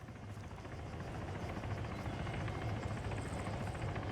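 A helicopter in the Arma 3 military game approaches to land near a town, its rotor chop throbbing steadily and swelling slightly as it draws closer, heard alone.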